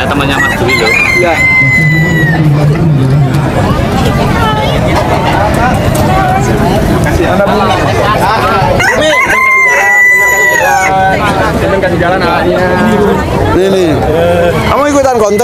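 Pelung chickens crow at a poultry contest. Long drawn-out rooster calls rise over clucking and a busy, noisy crowd, and people talk throughout.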